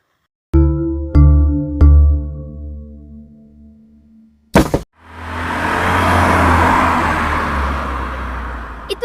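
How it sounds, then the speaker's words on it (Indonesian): A thief's getaway car pulls away after a few chiming tones and a sharp bang, its engine rising into a loud, broad rush that carries steadily to the end. "Dia sudah kabur dengan mobil."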